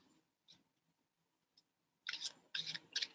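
Tarot cards are shuffled during a live reading. A few faint ticks come first, then three loud crisp riffling bursts close to the mic.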